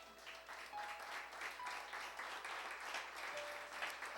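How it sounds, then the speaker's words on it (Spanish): Congregation at a Sunday church service clapping in steady, sustained applause, a fairly faint, distant wash of hands with no talking over it. "Denle un fuerte aplauso"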